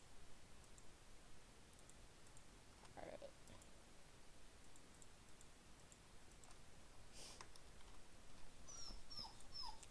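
A dog in the Minecraft modpack Stoneblock gives faint, brief whimpers and whines scattered through a quiet stretch of gameplay, with light clicking and ticking sounds in the background.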